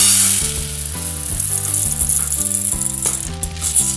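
About two cups of rice go into a hot pot for gumbo, giving a loud, steady sizzle with grainy rattling that runs the whole time over shifting tonal music, with no talk.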